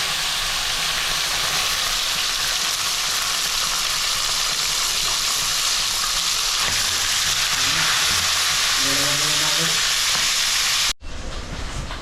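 Hot cooking oil sizzles steadily in a pan for frying tilapia, a dense continuous crackle and hiss close up that runs without a break and cuts off abruptly near the end.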